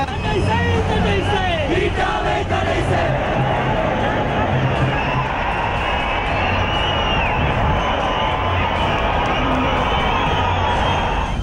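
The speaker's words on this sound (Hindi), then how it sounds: "चेन्नई के मरीना बीच पर हजारों की भीड़ का यह गुस्सा" An angry crowd of thousands protesting over Jallikattu at Marina Beach, Chennai: a loud, dense roar of shouting and chanting voices that stays constant throughout.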